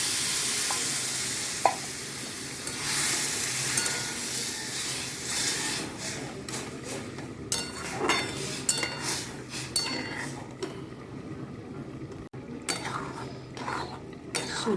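Water is poured onto roasted semolina in a hot pan. A loud hiss and sizzle fills the first few seconds, then gives way to quieter bubbling with scraping and clinking of a spoon against the pan.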